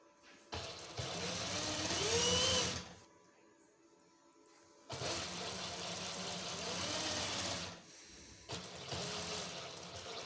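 An electric sewing machine runs steadily as it stitches a seam in an Ajrak-print waistcoat at a tailoring workshop, two long whirring bursts separated by a pause, then a shorter third run, with no talking.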